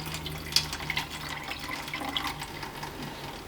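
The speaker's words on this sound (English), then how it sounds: "a large amount of water will come off your tomatoes. Strain it off" Water drains off soaked green tomatoes as they are strained, a steady soft trickle and pour with a few small splashes, fairly quiet and close.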